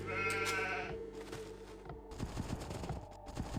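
Several sheep bleating in the video game Age of Empires II HD, Rise of Rajas, amid a game match with a busy stream of clicking unit and combat effects. Distinct, fairly loud bleats open, then shorter clattering hits follow.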